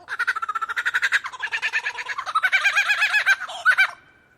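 A lyrebird mimics a kookaburra's laugh, a long, rhythmic cackling call that builds into rapid, raucous laughter-like bursts, then stops abruptly.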